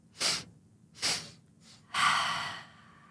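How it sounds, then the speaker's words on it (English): Sharp breaths during a breathwork exercise: two quick forceful inhales through the nose, a faint third breath, then a longer released exhale, close and clear with no talking. "Let's inhale sharply. Another one. Yes, and exhale, let it go. 2 sharp inhales."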